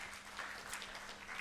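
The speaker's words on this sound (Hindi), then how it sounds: "एक बार इनके सम्मान में जोरदार तालियां" Faint, distant applause from an audience at an India–U.K. cultural symposium, a soft continuous patter of clapping that lasts the whole short moment.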